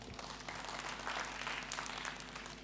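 Steady applause from a church congregation during a Sunday worship service, a dense even clatter of many hands sustained throughout with no talk over it.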